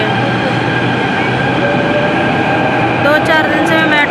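A metro train pulls into a station, its steady rumble and hum filling the platform, with a brighter squeal of brakes rising near the end as it slows.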